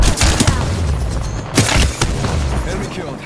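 Gunfire in the video game Apex Legends: repeated sharp, loud bursts of shots with booming impacts, clustered near the start and again around the middle, over continuous game noise with voices mixed in.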